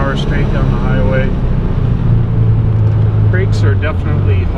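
A steady, loud engine and road roar from inside a 1974 Porsche 914 travelling at 80 mph on a highway, with someone talking over the drone.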